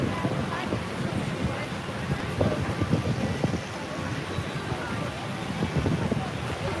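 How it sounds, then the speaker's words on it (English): Breezy wind buffets the microphone outdoors at Universal Orlando, a continuous low rumble that rises and falls, with people talking over it. "Yeah, it's breezy. It's breezy."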